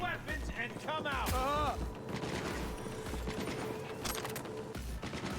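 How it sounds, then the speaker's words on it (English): Gunfire in the video game Cyberpunk: rapid bursts of shots and mechanical clatter run continuously under a voice talking, with dense, busy combat noise. "Who's shooting at me?"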